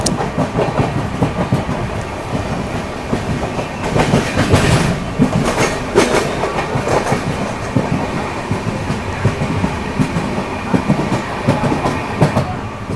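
A train runs past the Chennai Egmore coach maintenance yard, its wheels clattering loudly and steadily over the rails for the whole stretch, with no voices.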